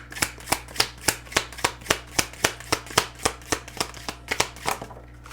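Tarot cards are shuffled and drawn in a quick, evenly spaced run of crisp riffling slaps, about twenty close, sharp bursts over several seconds with no voice.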